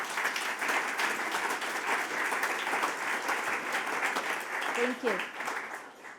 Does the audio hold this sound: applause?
yes